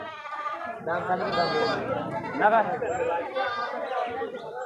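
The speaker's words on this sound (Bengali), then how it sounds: "অনেক ছাগল আছে দেখেন সবগুলো কিন্তু ব্ল্যাক বেঙ্গল জাতের ছাগল" Black Bengal goats bleat repeatedly in wavering cries close by, mixed with people talking in a busy outdoor goat market crowd.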